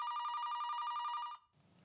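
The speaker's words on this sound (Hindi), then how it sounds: "फोन को भी अभी बजना था" A telephone bell rings in a rapid, steady trilling burst for over a second and then cuts off, heard indoors during a Hindi TV comedy serial scene with no speech.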